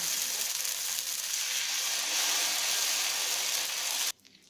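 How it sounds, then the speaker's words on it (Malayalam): Steady loud sizzle as oothappam batter is spread on an oiled hot pan for onion oothappam, a continuous hiss that cuts off abruptly near the end. "ആദ്യം കുറച്ച് എണ്ണ തേച്ച് കൊടുക്കാം. എന്നിട്ട് ഒരു തവി മാവ് എടുത്ത് കുറച്ച് തിന്നായിട്ട് ആദ്യം ഒന്ന് പരത്താം."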